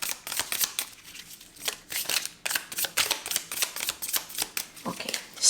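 Cards riffled and shuffled by hand in repeated quick bursts for a spiritual message reading, close and crisp with short pauses between flurries.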